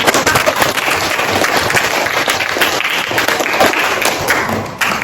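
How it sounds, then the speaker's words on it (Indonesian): A classroom audience applauds after a student's presentation in an Indonesian language lesson, steady close clapping filling the whole stretch at an even, loud level. "Iya, kasih tepuk tangan."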